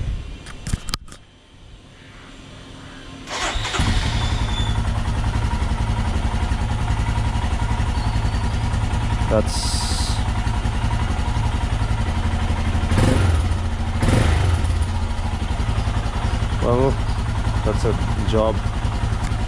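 A motorcycle engine, just back together after a fuel tank lid repair, starts after a few clicks and clatters, then idles steadily and close by with a low, even throb, with brief metallic knocks and a short spoken remark.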